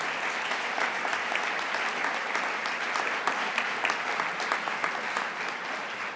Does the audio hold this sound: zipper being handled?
no